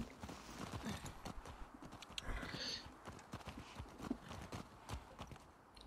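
Horse hooves clip-clopping in The Last of Us Part 2, an irregular walking patter of hoofbeats with a faint whinny, moderately quiet amid game ambience and no talk.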